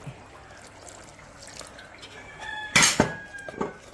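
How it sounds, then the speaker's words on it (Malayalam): Water is splashed onto seasoned squid in a bowl, followed by a short clatter and wet mixing sounds near the end, close by and fairly loud against a quiet background. "ഇതാ ഒന്ന് മിക്സ് ചെയ്യാനുള്ള വെള്ളവും കൂടെ"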